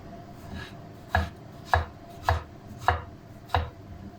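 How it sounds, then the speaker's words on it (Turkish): A knife chops through food on a board while a tongue salad is made, five sharp, evenly spaced cuts sounding close and distinct over a quiet kitchen background. "Kesiyoruz arkadaşlar ortadan ikiye."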